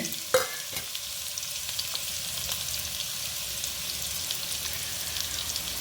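Onion, ginger, garlic and green chilli sauté in coconut oil in a pan, producing a steady soft sizzle throughout, with a single sharp clink near the start and a few faint stirring taps.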